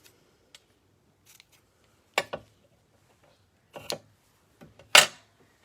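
Scissors trimming a satin ribbon bow on a card: three crisp close snips with small clicks in between, otherwise quiet, no talking.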